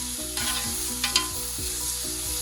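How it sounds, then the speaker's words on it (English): Meat and onions fry together in a pan over medium-high heat for homemade shawarma, a continuous close sizzle broken by a couple of quick stirring scrapes. "when you're cooking the meat and the onions together"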